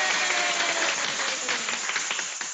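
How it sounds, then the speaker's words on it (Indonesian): Young kindergarten children clap together in a classroom, a steady dense patter of small hands throughout, fairly faint with no voices standing out. "Tepuk tangan buat semuanya."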